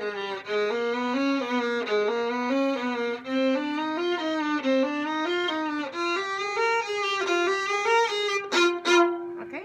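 A viola plays a bowed exercise passage with accented eighth notes, a continuous run of clear, close, sustained notes shifting in pitch and ending in a few sharper strokes.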